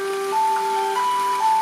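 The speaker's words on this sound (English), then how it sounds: "that's my alarm. That means the salmon's ready." A phone alarm goes off in a home kitchen during cooking, a steady electronic tone with beeping pulses, continuous and fairly loud, with no talking.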